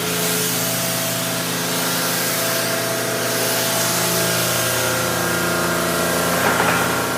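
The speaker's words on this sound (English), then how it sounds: "So, we want to rinse it reasonably thoroughly" A steady, loud water spray drums against a Gen 1 Ford Raptor pickup during a rinse, with a constant hiss and a droning engine or pump hum beneath it.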